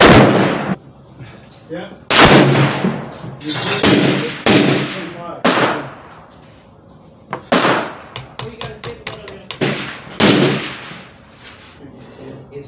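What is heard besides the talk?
Savage Axis II XP hunting rifle gunshots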